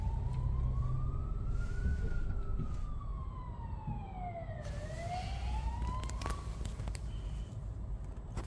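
A police siren wails through city traffic in New Zealand, its tone rising and falling in long sweeping cycles over a steady road rumble, fairly near and clear with no talking.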